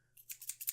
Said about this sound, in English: Let me grab my pair of scissors.